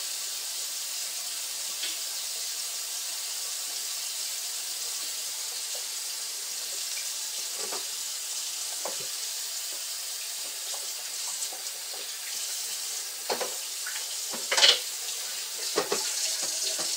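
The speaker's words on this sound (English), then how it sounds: "I'm going to run water on it just a little more" A kitchen tap runs steadily into the sink for the whole stretch, a constant close splashing hiss, with a few light clinks and knocks near the end as chicken thighs are rinsed; no talking.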